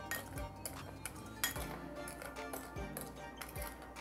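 Salt, sugar and ground black pepper stirred together in a bowl, giving a steady run of light clinks and scrapes of a utensil against the bowl with a few sharper taps, close and moderately loud, with no talking.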